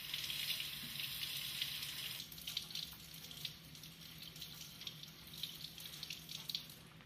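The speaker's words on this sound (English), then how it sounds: "she washes the sample thoroughly with water and gently wipes off the grey coat of particles" Running water rinses a metal metallography sample after etching: a faint, steady tap-like hiss, splashing more unevenly partway through as the water hits the piece, quiet and close, with no voices.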